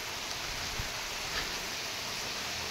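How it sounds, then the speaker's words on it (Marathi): Rain falls on a farm garden with banana plants in Khed, Ratnagiri, a soft, even hiss of drops on the ground and leaves with a couple of faint thuds, steady and unbroken. "चला पाऊस आला"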